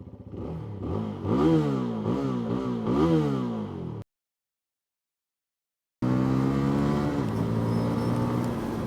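A CFMoto CLC 250 single-cylinder cruiser motorcycle engine revs repeatedly in rising and falling bursts with no soft limiter, then cuts to silence before settling into a loud, steady throbbing idle.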